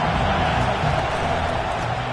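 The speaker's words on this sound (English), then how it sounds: "This crowd trying to make life miserable for this offense." A dense, steady roar of a large stadium crowd in a video game football match, LSU versus Ole Miss, fills the whole stretch, loud and continuous with no distinct voices standing out.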